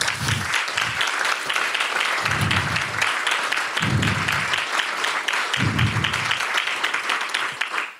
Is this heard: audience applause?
yes